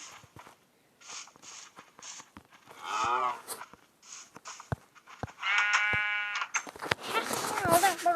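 Blocky Minecraft livestock moo and bleat from a pen in several separate calls, some drawn out and harmonic, with brief clicks and game sounds between them; the animals are fairly close and moderately loud.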